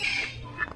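A short, loud bird squawk rings out twice at Cebu Safari and Adventure Park zoo, harsh and nasal, close by with a faint background hum.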